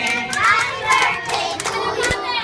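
Guests at a birthday party for Ian clap along with the happy birthday song, a steady run of hand claps with a few louder individual claps standing out, fairly close.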